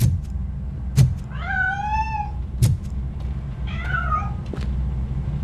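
A cat meows twice in the video game RoboCop: Rogue City, two drawn-out wavering cries a couple of seconds apart, with sharp thuds and a steady low background hum.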